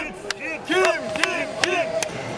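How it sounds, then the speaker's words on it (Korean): Fans in the stands at a VakıfBank women's volleyball match chant Kim Yeon-koung's name in rhythmic bursts with sharp claps, a loud, echoing crowd heard from within the arena. "경기 시작 전부터 관중석에서 터져나오는 연호"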